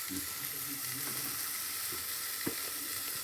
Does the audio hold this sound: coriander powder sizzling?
yes